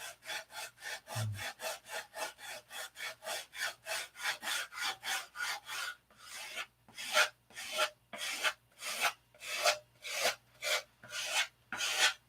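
Hand sanding of wood gives steady rasping back-and-forth strokes, about two a second, close and even, pausing briefly midway before resuming with slightly louder, more spaced strokes.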